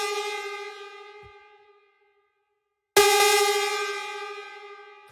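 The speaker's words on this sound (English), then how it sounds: "The next sound that we have here is the lead, which sounds like this." A bright, stabby rave-style synth lead for techno sounds in two sustained chords that ring out and decay, with a gap of silence between the hits, loud and alone with no talking.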